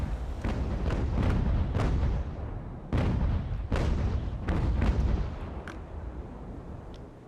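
Broadside cannon fire from sailing warships in the naval strategy game Ultimate Admiral: Age of Sail, with a ragged series of heavy booming shots rolling out one after another at middle distance, each thud trailing off into rumble.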